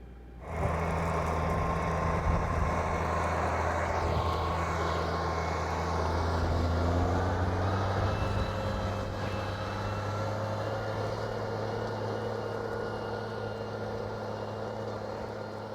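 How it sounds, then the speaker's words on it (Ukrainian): A Case 210 hp tractor pulls a DEFT disc harrow across a field with a loud, steady engine drone that starts abruptly and holds a constant hum close by, with no talk over it. "з трактором кейс 210 кінських сил він справляється своєю роботою непогано"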